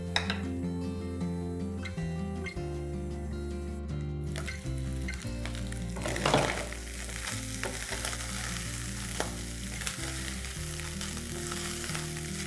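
Minced mutton keema stirred and fried in a pan, a steady sizzle running the whole time under continuous background music, with scrapes of stirring now and then.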